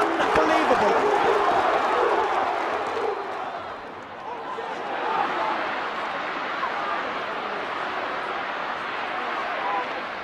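A hurling crowd roars after an Offaly goal at the 2010 Leinster semi-final against Galway in Portlaoise, a broad, sustained wash of cheering that swells again midway, with a commentator speaking over it.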